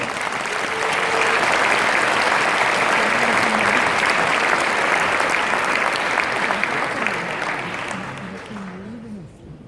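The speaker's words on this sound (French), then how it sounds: "Applaudissez-les encore une dernière fois." An audience applauds warmly after a church song cantata about the last week of Jesus, sustained dense clapping that slowly fades out, with faint voices underneath.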